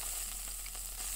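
Meat sizzling on a grill in a yakiniku simulation game, a steady soft crackling hiss that runs evenly and fairly quietly throughout, with no talk over it.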